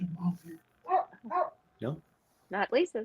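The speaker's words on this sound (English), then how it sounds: "Is there a dog? I hear a dog." A dog barks somewhere off to the side during a live online movie discussion, several short barks between people talking, mostly masked by their voices.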